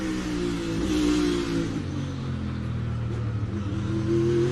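NASCAR race cars at the Indianapolis road course, engines droning loud and continuous with pitch sweeping as they brake and accelerate through a corner, no voices.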